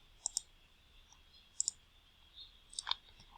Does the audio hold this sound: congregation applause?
no